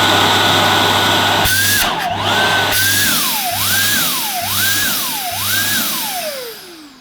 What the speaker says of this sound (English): Now that pulsing is normal because it happens on the handheld Dysons. If you block the suction off, it starts to pulse.